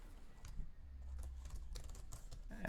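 Code being typed on a computer keyboard: quick irregular key clicks in short bursts, close and quiet, against a low background hum, with no talking.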